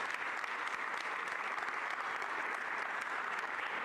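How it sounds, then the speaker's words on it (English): A large audience at a Philadelphia civic announcement on Market East revitalization applauds steadily in a dense, even wash of clapping that holds without a break, heard from a distance. "Give those current tangible investments and improvements a round of applause"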